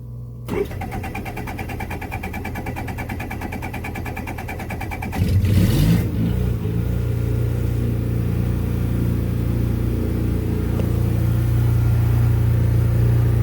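A boat's generator cranks and catches at close range, then settles into a steady, loud running drone that holds to the end, with a brief surge as it starts.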